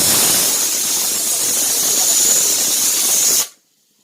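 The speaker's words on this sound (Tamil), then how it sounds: "கொத்தமல்லியை குறைவாக அரைச்சி போட்டு வதக்கிட்டுருக்கேன்." Ground coriander leaf paste sautéing for a country chicken roast makes a loud, even steamy hiss at close range that cuts off abruptly just before the end.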